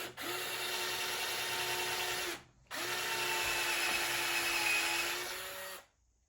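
A power drill whirs steadily at close range in two long bursts separated by a brief pause, with the motor pitch holding steady throughout, driving a bit into wood for a saddle stand.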